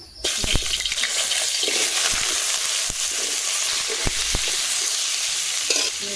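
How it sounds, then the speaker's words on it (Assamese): Bamboo shoots fry in hot oil in a wok with a loud, steady sizzle throughout, broken by several sharp knocks and scrapes of a spatula stirring against the metal. "এতিয়া মই বাঁহৰ গজালিখিনি ভাজি ল'ম।"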